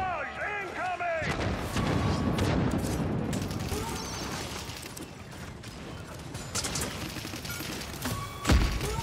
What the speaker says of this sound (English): Barrage incoming!